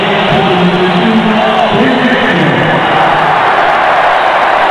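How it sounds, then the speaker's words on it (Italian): Stadium crowd at a 2001 Italy versus Argentina friendly football match applauding a substitute, a dense, loud wash of clapping and cheering filling the whole stretch, with a commentator's voice faintly beneath. "Per lui, applausi."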